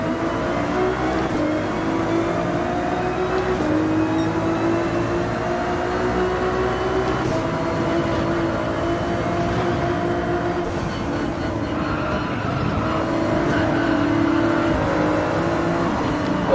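Car traffic engines in Gran Turismo 7 on a highway: a continuous loud drone of racing and road car engines, with steady hum and occasional revving as cars pass close by.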